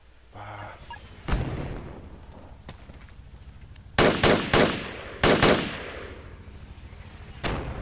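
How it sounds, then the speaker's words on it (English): Mortar fire in the military shooter Project Reality, a handful of distant booming impacts, some in quick pairs, over a low steady battlefield rumble. "Just mortars east."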